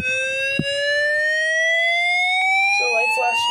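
A 2010 WR10 weather radio sounds its alert test tone, a loud, steady, high-pitched siren wail that slowly rises in pitch throughout, with a brief click near the start and faint background noises toward the end.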